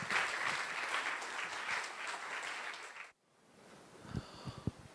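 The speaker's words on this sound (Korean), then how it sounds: "목사님께서 나오실 때 동안의 따뜻한 박수로 환영해 주시길" Warm applause from a church youth-conference audience welcoming the pastor to the stage at a summer revival meeting, steady and full for about three seconds, then breaking off into near silence before a few scattered claps.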